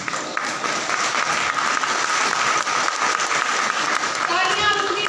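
Sustained, dense audience applause fills a prize ceremony at an agri-fest held at a government horticulture institution, loud and steady throughout with no break.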